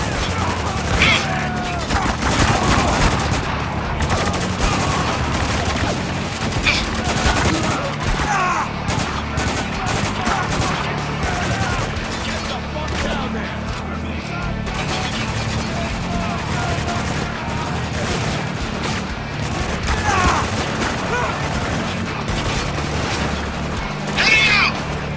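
Gunfire rings out in the video game Spec Ops The Line: sustained bursts of automatic weapons and heavier booms in a continuous loud firefight, with soldiers shouting over the shooting.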